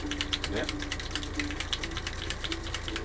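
A can of Molotow liquid chrome spray paint being shaken, its mixing ball rattling in a steady rapid rhythm for a few seconds, close and moderately loud with a faint background hum.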